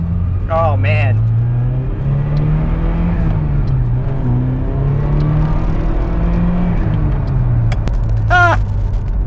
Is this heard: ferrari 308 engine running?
yes